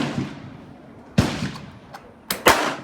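A shotgun fires pistol ammunition through a shell adapter, giving sharp, loud close bangs: one shot, then two more in quick succession, with no talking.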